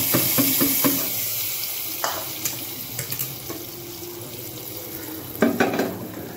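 Crackling and spattering of hot oil in a pan as a tempering is made for a greens dish, a steady sizzle with scattered pops and clinks, no talking.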